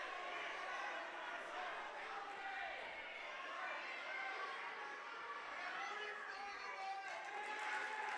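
Spectators at a boys' wrestling match roar steadily throughout, a dense wash of cheering, shouting and overlapping voices that stays loud and close from start to finish, with occasional louder yells rising above the din.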